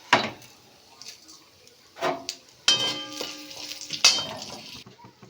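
Black mustard seeds and cumin sizzle in hot oil with asafoetida for a bun dosa tempering, crackling in short bursts separated by quieter gaps, with a few metallic clinks from stirring in the pan.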